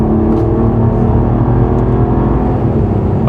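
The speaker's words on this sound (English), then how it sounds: "you can blast through all 9 gears without even feeling a thing. Now, you hear it shift" A 2024 Mercedes CLE 450 coupe accelerates through its nine-speed gearbox, a loud, smooth engine drone rising in pitch with gentle shifts, heard from inside the cabin.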